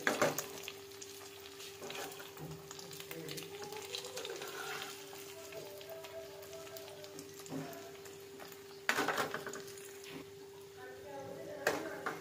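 Eggs frying with sauces in a frying pan give a steady, moderate sizzle and crackle, with a few sharper bursts as someone talks over the cooking.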